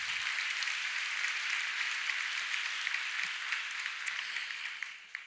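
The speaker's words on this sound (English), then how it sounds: "you clap for that." Sustained audience applause at a community event celebrating an education nonprofit's 25 years, steady broadband clapping throughout before tapering off at the end, with faint voices underneath.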